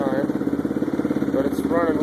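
A 2002 Yamaha Raptor 660R engine runs close and loud with the choke off, a rough pulsing idle that rises briefly as the throttle is blipped and then settles, with someone talking over it.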